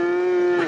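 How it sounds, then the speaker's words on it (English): A single cow lets out one short, steady moo, close and clear with no other sound around it. "Sounds like a cow's in there."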